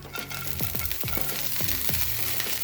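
Frozen mixed vegetables fry with golden onion in a pan, a close, busy crackle and hiss broken by several stirring scrapes and clinks, with no voice present.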